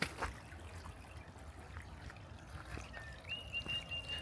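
A shallow stream trickles gently over rocks along the Lesmurdie Falls valley hiking trail in the Perth Hills, a soft, steady, close-by water sound, with a faint bird whistle near the end.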